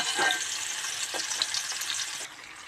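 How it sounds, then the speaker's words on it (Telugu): Fish pieces and cumin seeds fry in oil in a pan on low heat, a close, continuous sizzle with scattered crackles and pops that eases slightly near the end. "ఒక జీలకర్ర వేసి ముక్కలు వేసుకోవాలి"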